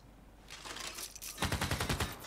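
Rapid bursts of automatic gunfire in the video game Civilization 6 crackle, a rattling volley followed by a louder, denser string of shots, sharp and close.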